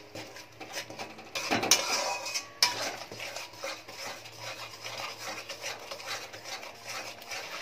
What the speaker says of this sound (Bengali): এবার মশলাটাকে ভালো করে কষিয়ে নেব যতক্ষণ মশলা থেকে তেলটা না ছেড়ে আসে।